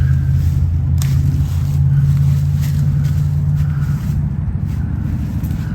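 Cars pass along a road beside a meadow with trees, a low steady rumble of traffic with a swell as one vehicle goes by, moderately close, and no talking.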